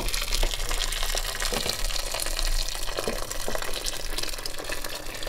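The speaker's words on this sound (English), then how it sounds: "I'm gonna add the water." Water pours steadily from a tap into a pot for a Persian lamb stew with onion, a constant close gushing splash that runs throughout.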